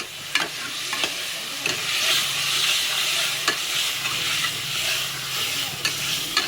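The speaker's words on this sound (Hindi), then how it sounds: "डाल देते हैं संग की संग इसमें कटी हुई सब्जी, ये डाल दें और इसको चला देते हैं" Chopped vegetables hiss and crackle in a hot pan while a spoon stirs them, scraping clicks sounding at irregular intervals over a continuous close sizzle, with no talking.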